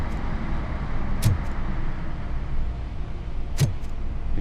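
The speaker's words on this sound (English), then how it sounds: "Whoa, I can hear a truck." A truck engine in the video game Robocop Rogue City rumbles steadily at low pitch throughout, with two short, sharp bursts cutting in over the drone.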